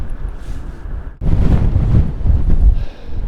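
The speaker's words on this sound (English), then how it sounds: "Hopefully it's as breezy up there as it is down here." Outdoor wind gusting against the microphone near a sleek modern building under cloud cover, a steady rushing roar that swells sharply partway through and stays loud and broadband to the end, with no talking.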